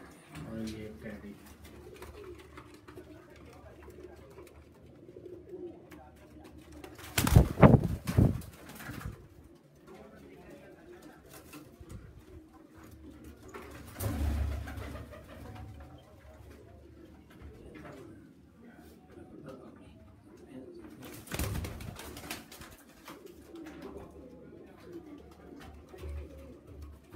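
Racing pigeons cooing softly nearby in repeated low throaty calls, with one louder burst of wing flapping or handling noise and a few other bumps, and people talking.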